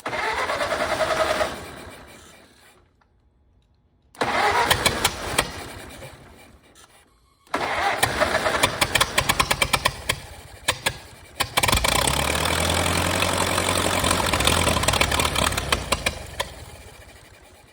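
An old Ford Model T engine sputters and cranks, cuts out twice, then catches and runs with a rapid, uneven clattering rhythm close by.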